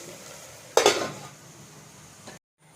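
Potato and carrot pieces are stirred in a pan, giving a loud scraping, clattering burst that eases into a soft sizzle for over a second before stopping abruptly.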